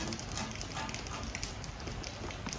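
Rain falls steadily outdoors while people sit eating, making a dense, even hiss with scattered patters close by.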